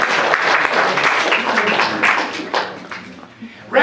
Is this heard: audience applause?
yes